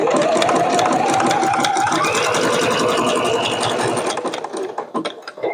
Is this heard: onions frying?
no